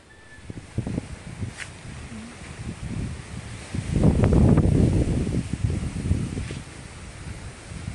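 Wind blowing outdoors over rustling foliage, a steady rushing gust that swells louder in the middle and then eases, with soft scattered rustles throughout.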